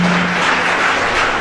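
A church congregation at a French-language service claps and cheers in praise of Jesus, a dense, loud burst of applause filling the room throughout.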